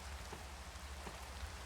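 Steady rain falls in the blocky world of Minecraft, a continuous soft hiss of drops with faint scattered patters over a low rumble, no voices.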